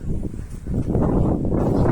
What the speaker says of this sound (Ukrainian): вітер сильний, дуже дуже сильний вітер